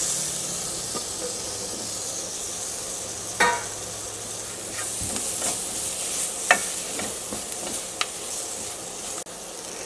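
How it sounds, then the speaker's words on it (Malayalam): Capsicum stir-fries with coriander powder in a hot pan, giving a steady, close hiss of frying broken by several sharp scrapes and clinks of stirring, with no voices. "ഇനി അടുത്തത് ഇതിലേക്ക് നമ്മൾ ക്യാപ്സിക്കം ചേർക്കണം."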